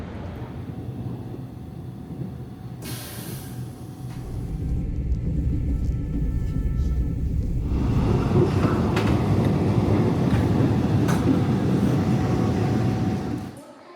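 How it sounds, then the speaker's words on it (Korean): A Tongil-ho passenger train running on rails makes a low, steady rumble that swells partway through, holds loud and continuous, then cuts off at the end. "오늘은 정겨운 통일호 기차를 타고 출발합니다."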